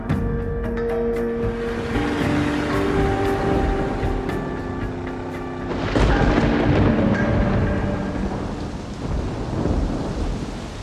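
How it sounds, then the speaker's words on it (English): Rolling thunder from an approaching monsoon rainstorm over a fast-flowing river, a continuous loud rumble with rain hiss, swelling into a heavier burst about halfway through. "Rainstorm coming in."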